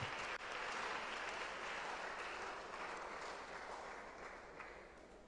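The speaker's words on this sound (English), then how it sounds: "Please let's welcome her with a round of applause." Steady applause from an audience welcoming a student speaker from Swedru SHS to the podium at a national public speaking competition grand finale, a dense even wash of clapping that holds for several seconds and slowly eases.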